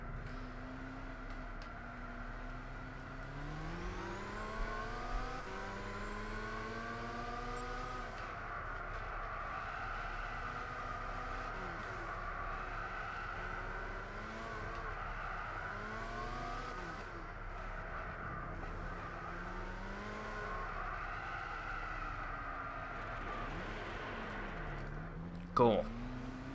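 Race car engines in the Gran Turismo 6 GT All-Star Championship on PS3 drone steadily with rising and falling pitch sweeps as gears change, a continuous field of cars under ongoing talk.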